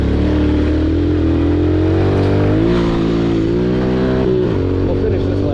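Small RM85 and 110 dirt bike engines rev steadily and loudly while riding, the buzzing pitch rising and falling continuously with a rider talking over the noise.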